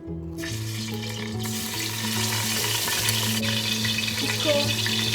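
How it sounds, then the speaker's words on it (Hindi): Garlic and ginger sizzle as they sauté in a cup of hot oil in a preheated pot for aloo gosht, with steady frying crackle and some stirring, a low hum underneath and no talking. "इसको थोड़ा सा सौते कर लूँगी।"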